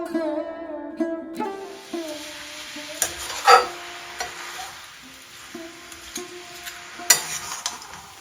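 Coconut and chopped jaggery being stirred together in a small wok, giving a soft, steady scraping and faint sizzle with a few sharper spoon knocks against the pan, close and fairly quiet with no talk.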